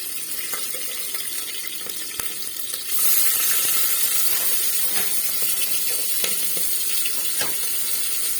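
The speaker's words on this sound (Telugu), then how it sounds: "ఒక పట్ట, ఒక లవంగము, కొద్దిగా సాజీరా, ఒక బిర్యానీ ఆకు వేసుకొని కొద్దిగా పచ్చిమిర్చి అయితే వేసుకుంటున్నా అండి." Cinnamon, clove, caraway, a bay leaf and green chillies fry in hot oil, giving a steady close sizzle that gets louder and fuller partway through, with light scraping taps now and then.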